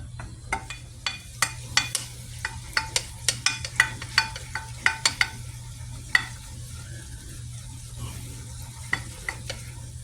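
Butter melting in a pan while being swirled, with a low steady sizzle under a string of sharp clinks and scrapes from stirring, close and fairly loud, with no talking.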